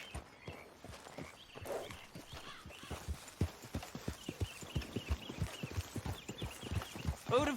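Horse hooves clip-clop at a steady walking rhythm in Red Dead Redemption II, a continuous run of soft, evenly spaced hoofbeats against a low outdoor ambience.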